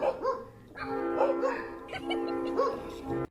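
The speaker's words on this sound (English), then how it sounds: "Every bark comes with full body energy, like it's a workout." A dog barks repeatedly and energetically at close range, with sharp yips and whiny, strained barks coming in quick bursts over a few seconds.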